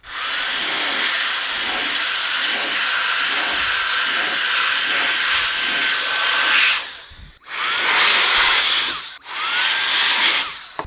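A rechargeable Solareye three-gear electric air duster blasts air into computer vents. It gives a loud, steady high-pitched whooshing roar for several seconds, then two shorter bursts separated by brief stops, with a rising whine at each start.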